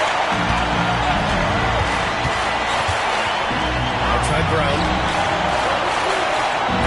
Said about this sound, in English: And the crowd now is in a frenzy